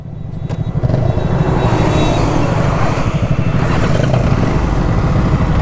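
A motorcycle engine runs close by on a Bengaluru ride, a loud, steady, rumbling drone that holds throughout with no speech over it.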